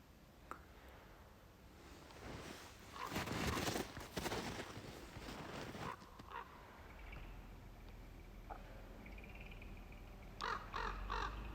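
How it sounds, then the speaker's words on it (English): Several crows caw outdoors in a quiet, scenic spot, harsh calls rising in short bursts at a distance and again near the end, over faint background noise and rustling, with no talking. "I can hear the crows."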